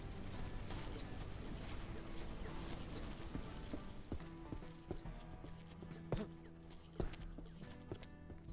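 Horse hooves clip-clop at a steady walking pace in the ranch video game Ranch Simulator, moderately loud over a continuous ambient background, with a few sharper knocks toward the end.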